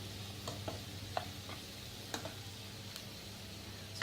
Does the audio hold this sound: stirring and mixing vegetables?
yes